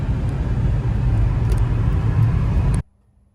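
Mercedes E55 AMG cruising along a road, a close, steady low rumble of engine and road noise that cuts off abruptly near the end, no talking.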